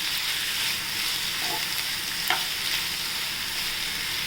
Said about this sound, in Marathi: भरपूर कांदा टाकून ही भाजी करायची आणि आपण याला परतून घेऊ